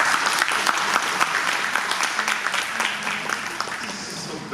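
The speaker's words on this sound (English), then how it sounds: "So give them a big applause." A conference audience gives loud, dense applause for the organisers, a steady wash of many hands clapping close by that holds for several seconds.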